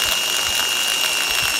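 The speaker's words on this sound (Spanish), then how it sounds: "Como ustedes pueden ver, el taladro ahora está funcionando," An electric drill runs slowly with a capacitor fitted, giving a steady, loud, continuous whirring hum with a persistent high whine and no pauses, with no voice over it.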